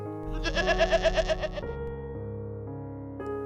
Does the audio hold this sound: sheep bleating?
yes